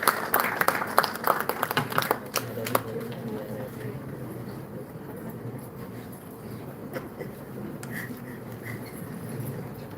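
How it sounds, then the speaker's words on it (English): A conference audience applauds in a hall, dense clapping loud at first and fading after a few seconds into a murmuring room tone with scattered claps. "Big round of applause."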